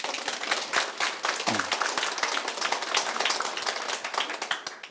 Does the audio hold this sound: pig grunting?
no